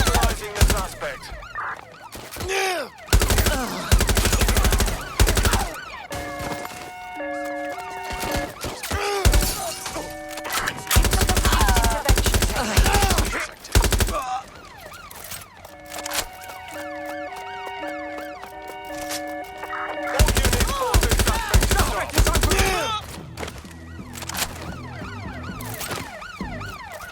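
Bursts of gunfire ring out in a Watch Dogs Legion firefight, with loud sharp cracks and shattering hits over wailing sirens and layered game music, the action surging and dropping over about half a minute.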